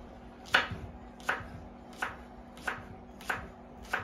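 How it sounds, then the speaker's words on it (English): A knife chops a long green onion on a cutting board in five evenly spaced, crisp, close strokes, about one every 0.7 seconds, with nothing else heard. "Notice I'm chopping the whole onion here."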